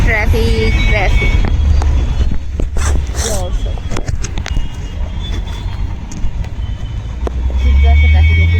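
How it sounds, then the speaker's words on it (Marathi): Heavy, congested road traffic around a motorbike on a rainy trip to Jejuri, with repeated honking horns and engine drone, loud and close throughout, swelling again toward the end. "खूप जास्त ट्रॅफिक आहे, खूप भयानक."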